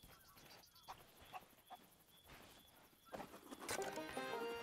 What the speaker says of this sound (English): We got the chicken on board the ship